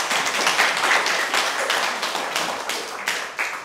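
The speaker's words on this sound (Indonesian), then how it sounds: "Kita beri aplaus." Audience at a Catholic charismatic prayer meeting in a church hall breaks into loud, sustained clapping that carries steadily throughout, with dense overlapping hand claps tapering slightly toward the end.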